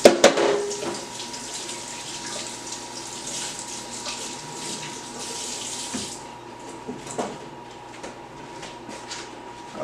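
Cooking greens being washed under a running kitchen tap, a steady close stream of water splashing into a sink with a few small clatters, no talking.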